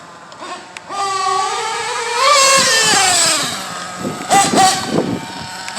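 Pico P3 motorbike engine under load during break-in, revving up in a rising whine that holds loud and strained, then drops back with a few sharp blips and clatters near the end; brief voice sounds mix in.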